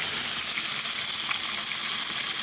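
A skinless fish fillet sizzles steadily on a hot griddle, with a loud, continuous frying hiss and spatter and no pauses.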